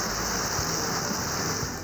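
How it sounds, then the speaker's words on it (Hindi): Steady, dense rain pours down during a thunderstorm in the Nathia Gali and Ayubia area near Abbottabad, a constant loud hiss with no distinct thunderclap standing out. "एबटाबाद के इलाके नथिया गली और अयूबिया में भी गरज चमक के साथ बारिश हुई।"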